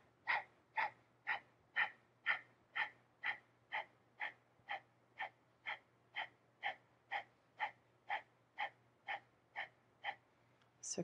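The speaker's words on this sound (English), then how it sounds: "We're going to do 2 minutes of breath of fire here." Rapid, forceful rhythmic breaths of the breath of fire technique during a Kundalini yoga kriya, about twenty evenly spaced pumping exhales over eleven seconds, close and steady with a faint hum beneath.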